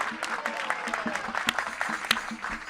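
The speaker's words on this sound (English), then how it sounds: "Big round of applause for all our Kartal and Mridanga and flute players" At a devotional Hare Krishna gathering, a crowd claps for the kartal, mridanga and flute players. The clapping is sparse and fairly rhythmic, with distinct individual claps ringing out and soft voices underneath.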